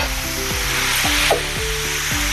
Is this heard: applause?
no